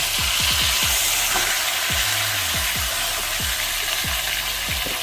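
Beef for a Jamaican-style pot roast searing in a pot, a steady broad sizzle that runs loud and continuous with low rumbling pops underneath, close, no talk.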